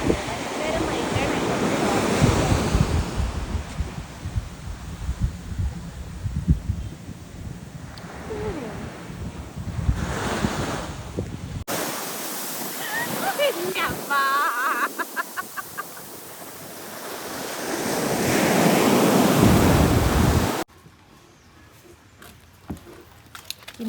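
Wind gusts across an open seashore, a broad roaring rush with surf-like swells, loud through most of the clip and dropping off sharply near the end; a voice is faintly present.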